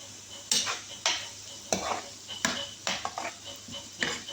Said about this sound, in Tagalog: Haluin mo.